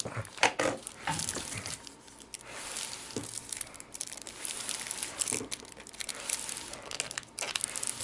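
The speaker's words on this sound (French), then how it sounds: "Alors, je vais ouvrir les cartes." Plastic wrapping is torn and crinkled off decks of cards from a Clank! board game box, a close, busy stream of crackling and ripping with brief pauses.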